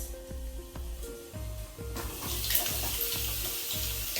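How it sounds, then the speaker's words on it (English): Bacon and sausages fry in a covered pan on a cooker, giving a steady close sizzle with faint crackles, set against soft repeating musical tones throughout. "This is how my bacon and my sausages are cooking"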